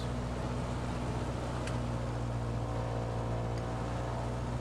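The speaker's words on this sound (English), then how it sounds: "Now we'll run up the engine here and check the magnetos." A single-engine light aircraft, tail number N7918S, at KCKN holds a steady loud engine drone during its pre-takeoff run-up and magneto check, the tone constant and close with no speech over it.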